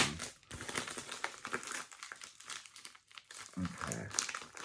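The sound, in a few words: package being opened slowly by hand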